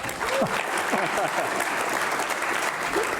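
An audience at a White House event applauds steadily for a few seconds, a dense, even wash of many hands clapping with faint voices mixed in.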